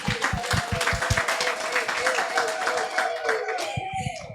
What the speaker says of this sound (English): I think she deserves a better applause